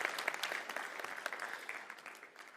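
An audience claps steadily for a couple of seconds after a performance, a dense, even patter at moderate distance with no voices over it.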